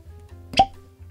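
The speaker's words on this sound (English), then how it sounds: "Pause for cork pop." A single short cork pop as a Wild Turkey Rare Breed Rye barrel-proof bottle is opened, close and clear against a quiet room with a low hum.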